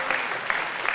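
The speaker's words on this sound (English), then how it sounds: "That applause for the experts." Audience applause greets a panel of experts arriving at a post-debate review at a university in Nashville, Tennessee, a short steady burst of clapping with a few louder peaks.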